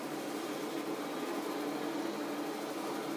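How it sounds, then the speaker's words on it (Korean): A steady, low whirring hum of a robot vacuum cleaner runs continuously, soft and even, with no voices. "자동 로봇 청소기가 바로 밑에서 워킹 중에 있습니다"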